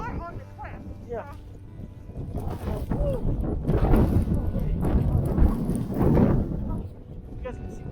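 Strong wind from a New Jersey snowstorm roars and gusts between tall buildings, rising to a heavy, close rumble midway and then easing, while voices talk over it.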